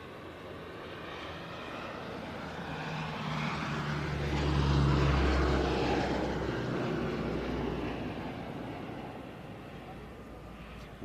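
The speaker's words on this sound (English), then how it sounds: "we should see a low overshoot as it approaches the runway" A fixed-wing aircraft makes a low overshoot past the runway at the Antidotum Airshow Leszno, its steady engine roar swelling to a peak mid-pass and then easing off, heard from a distance with a broad, rushing tone.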